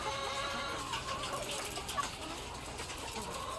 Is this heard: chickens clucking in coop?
yes